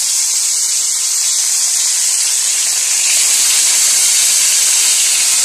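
Dalagang bukid fish frying in a pan, a loud, steady sizzle and hiss that holds unbroken at close range with no voices.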